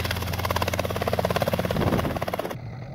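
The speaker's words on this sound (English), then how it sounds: "to fly in a little helicopter, a little Robinson helicopter, little two-seater, no doors, nothing." A small Robinson two-seater helicopter with no doors in flight, its rotor giving a loud, steady, rapid chop with a buzzing engine beneath, close and continuous until it cuts off near the end.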